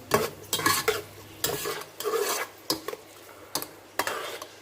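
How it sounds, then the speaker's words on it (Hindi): Onions browning in oil in a pot make a soft sizzle under repeated bursts of a utensil scraping and stirring against the metal. The scrapes come in an uneven rhythm, close up, with no voices. "अब हम इस प्याज को ब्राउन करेंगे थोड़ा सा इसी ऑयल में।"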